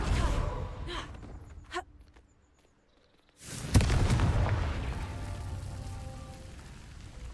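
A single deep blast from the Confringo spell in Hogwarts Legacy bursts in after a near-silent pause, then trails off in a rumbling, crackling decay, with faint ambient noise before it.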